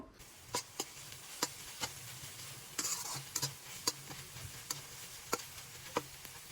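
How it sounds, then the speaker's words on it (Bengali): Chopped garlic and onion frying in a generous amount of oil in a pan, a faint soft sizzle broken by regular sharp clicks of a spatula against the pan, with no talk. "এবার এর মধ্যে দিয়ে দেব রসুন কুচি আর পেঁয়াজ কুচি। এরপর এগুলোকে কিছুক্ষণ ভেজে নেব।"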